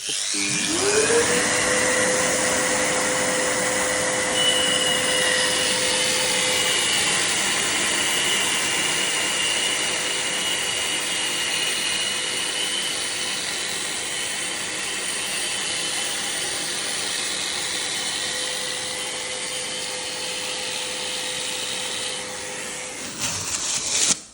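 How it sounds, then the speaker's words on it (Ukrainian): A small sanding disc grinds along the taped edges of porcelain tile with a loud, steady high whine, spinning up at the start and winding down at the end, with no talking. "За допомогою ось такого кружочка, скотчика відклеїли лінію чітку рівно і підшліфовуємо з обох сторін"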